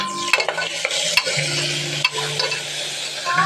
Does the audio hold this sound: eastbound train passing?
no